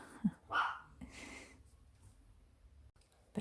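A couple of small dogs at home give a short burst of barks early on, fairly close but quiet, then fall silent into low room noise.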